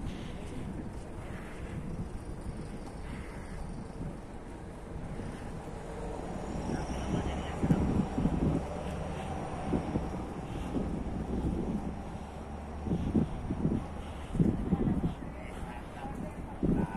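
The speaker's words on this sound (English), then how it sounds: "And it is a bit windy today" Steady wind rushes across an open waterfront, with low rumble and faint surf, while distant voices murmur in the background.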